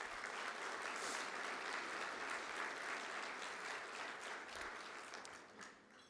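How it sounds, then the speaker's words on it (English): Sustained applause from a crowd at a school hall of fame induction dinner, a dense wash of clapping heard from some distance, holding steady before tapering off near the end. "So please give them a round of applause."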